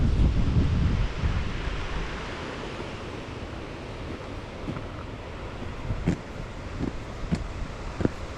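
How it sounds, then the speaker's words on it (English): Fast river water pouring over a large weir, heard from a distance as a steady broadband roar with wind buffeting the microphone and a few faint knocks. "Oh, there's another bloody big fall there, like a weir, just down there as well"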